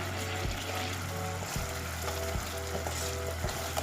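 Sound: coconut milk and curry paste simmering in pot

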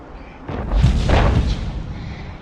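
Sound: tank cannon shot in World of Tanks Blitz video game

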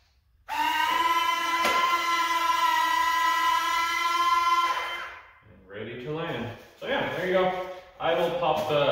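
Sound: retractable landing gear of RC F18 jet extending

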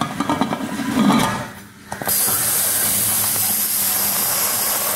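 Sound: pressure cooker releasing steam while cooking chicken

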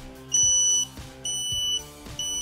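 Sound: T40 H2S gas monitor alarm ringing

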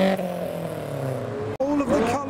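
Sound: McLaren and Lotus sports car engines revving

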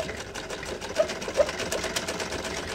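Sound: sewing machine stitching dupatta tassel strips

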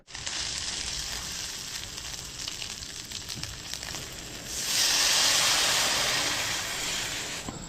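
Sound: meat cooking in a pan

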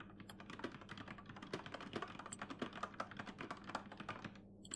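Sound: computer keyboard typing in an itch.io video game

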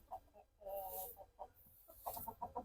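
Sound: chickens clucking

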